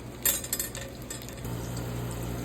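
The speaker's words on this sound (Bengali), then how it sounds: "এভাবে একটু ভেজে নিব।" Noodles frying in oil in a pan, with a steady close sizzle and a few clinks of a utensil stirring against the metal near the start.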